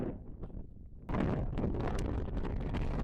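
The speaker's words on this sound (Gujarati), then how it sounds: "અહીંયા તો પવન એક જોરદાર આવે છે" Strong wind buffets the microphone in a low, roaring rumble, easing briefly before gusting back harder and staying loud and steady.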